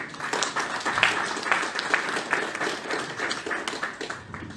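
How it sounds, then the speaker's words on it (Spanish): Moderate applause from a seated audience at a constitutional law lecture welcoming the president of Ecuador's Superior Court of Justice: many overlapping claps with distinct individual hits, fairly steady throughout. "Lo recibimos con voto de aplauso."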